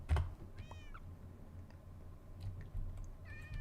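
A cat meows several times in a modded Minecraft game, short high mewing calls scattered over a low background hum and soft clicking, fairly quiet and with no speech over them.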